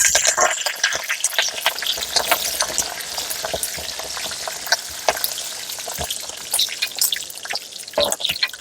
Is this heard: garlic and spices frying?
yes